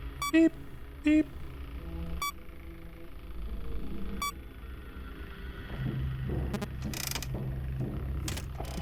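Short electronic beeps in Five Nights at Freddy's 3: two stronger beeps early, then sparse single beeps spaced a couple of seconds apart over low hum, with clattering and rustling bursts toward the end.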